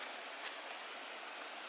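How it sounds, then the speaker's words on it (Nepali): Water from a very small waterfall pours down a stream in a steady, dense, close rush of white-noise splashing, alone with no voices. "पानीको साउन्ड त एकदम बब्बाल छ"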